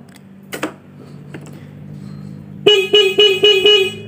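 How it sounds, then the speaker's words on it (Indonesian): Horn of a Honda Jupiter Z1 motorcycle sounds in five short, close, loud honks in quick succession after a quiet stretch of idle background noise and a few clicks. "Klakson bagus."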